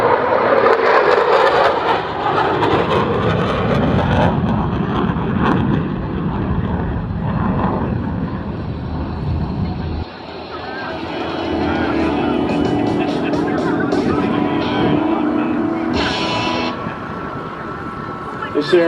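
A McDonnell Douglas Boeing F-15 Eagle fighter jet roars past at high speed during an air show demonstration, a loud continuous broadband rush that swells and shifts throughout, with an announcer talking over it.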